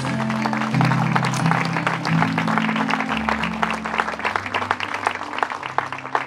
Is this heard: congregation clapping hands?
yes